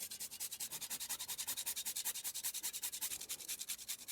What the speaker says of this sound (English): 1 whole grated nutmeg. So it's going to take a while to grate this in.